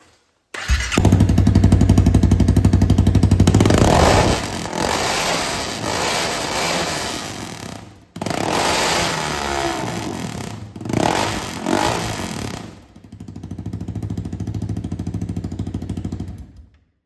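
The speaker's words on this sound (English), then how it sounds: "this is a 2018 Honda CBR 300RA straight piped." Straight-piped 2018 Honda CBR 300R motorcycle engine running, loud rough idle with sharp revs that rise, drop and rise again, close and alone.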